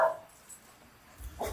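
Dogs give a couple of short barks, one at the very start and another near the end, separated by a quiet pause, sounding moderately close with no talking.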